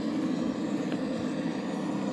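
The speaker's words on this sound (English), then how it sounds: "There goes the train." A train rolls past in a train simulator video game, a steady, loud rumbling roar that holds evenly throughout with no voices.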